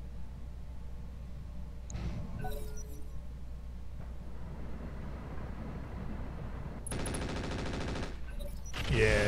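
Gunfire rings out in the Roguetech mech battle game: a few scattered shots early on, then a dense, rapid burst of automatic fire over a low rumbling backdrop, ending in a sharp crack.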